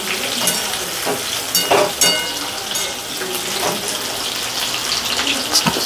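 Chicken pieces fry in hot oil for garlic chilli chicken, a dense steady sizzle with occasional louder crackles and bursts of spattering, close and continuous.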